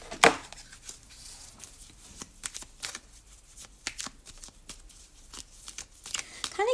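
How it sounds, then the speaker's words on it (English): Tarot cards being shuffled and picked, a close run of crisp riffles, flicks and taps, irregular and fairly quiet, with no talk. "I'm going to pick my other cards."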